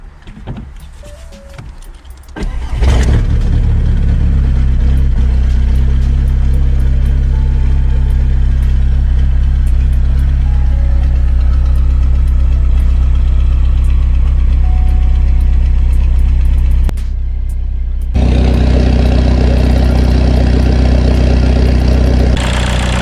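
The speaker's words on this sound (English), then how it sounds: "So, I think now that that's installed, we'll start the car up, make sure everything's okay" A Seat Ibiza 1.9 TDI diesel with a newly fitted N75 boost valve cranks briefly and catches, then settles into a steady, loud, near idle, with a short dip in the engine note before it resumes, and no talking over it.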